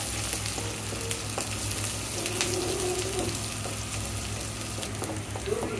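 Chopped garlic, onion and sliced green chili stir-fry in oil with a continuous close sizzle, dotted with light clicks and scrapes from stirring.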